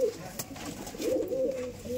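Domestic pigeons kept indoors for flying contests give soft, low cooing calls that swell and fade in the middle of the stretch, fairly close by, over a quiet room background.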